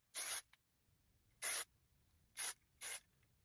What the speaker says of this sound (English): For finishing, I use my Big Sexy Hair Spray and Play or Spray and Stay.